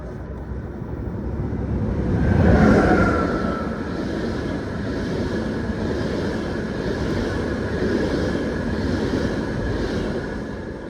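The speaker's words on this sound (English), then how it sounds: "Here comes the railjet." An Austrian Railjet passenger train rolls past outdoors in snowy weather, a steady broad rumble that swells to a peak and then holds as a long rolling roar, with a brief horn-like tone as it nears.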